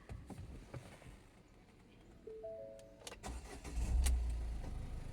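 A 2018 Ford EcoSport petrol engine starting: a soft electrical whine as the starter cranks, then the engine catches and settles into a low, steady idle, heard fairly quietly without talking.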